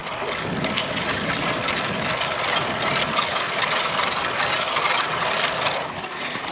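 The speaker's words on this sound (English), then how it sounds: "my bike is making some crazy noises. Listen to this." A steady, loud mechanical whirring and grinding from a bicycle straining uphill, continuous and close, with no one talking.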